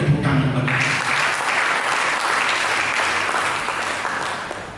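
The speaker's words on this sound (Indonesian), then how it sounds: "Mari berikan tepuk tangan bagi." A church congregation applauds during an Indonesian sermon, a dense, steady wash of many hands clapping that fills the room at full strength before easing slightly toward the end.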